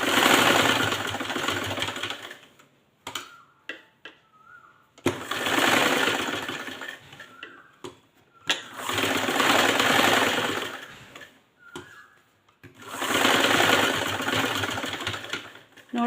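A sewing machine stitching fabric fast while making drawstring waistband casings, with three long bursts of rapid, steady mechanical whirring separated by brief pauses and small handling clicks.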